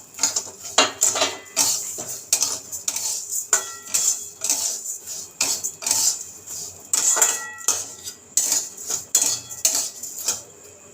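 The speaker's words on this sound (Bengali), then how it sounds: "এবার হালকা ভেজে নেব চালটাকে" Gobindobhog rice lightly roasted in a kadai, heard as repeated metallic scrapes and clinks of a spatula against the pan in an irregular stirring rhythm, close and fairly loud.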